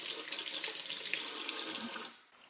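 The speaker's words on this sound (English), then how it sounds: "I'm going to wet the brush with some water first." Running water from a tap splashing over a dirty makeup brush at a sink, a steady close rush that cuts off near the end.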